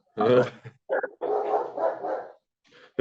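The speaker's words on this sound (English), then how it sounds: "Oh, sorry, my dog." A dog barks and growls close by in a room, several loud yaps and a rough growling run, then silence and a brief final yip.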